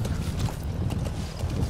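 Horse hooves clip-clopping at a steady, quick rhythm in Metal Gear Solid 5: The Phantom Pain, fairly close and continuous with no talking over them.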